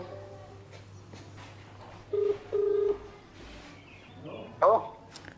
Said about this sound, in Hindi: बेटा एक काम कर, मेरे डीलर बेटे को फोन कर। ठीक है जुम्मन चचा, लगाता हूं मैं फोन